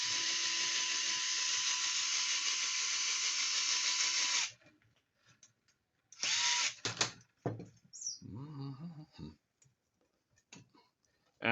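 A power drill drives screws into a connector on a swinging stand during assembly: a loud, steady whir for several seconds, then short bursts of drilling mixed with clicks and handling noises, close by.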